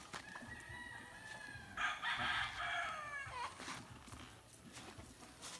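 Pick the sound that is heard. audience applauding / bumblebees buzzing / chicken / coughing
chicken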